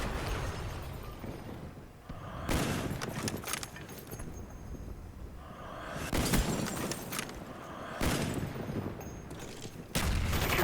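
Bursts of gunfire in Call of Duty Black Ops on the Berlin Wall map, rapid fusillades of shots through windows arriving in several clusters, fairly loud over quieter game ambience.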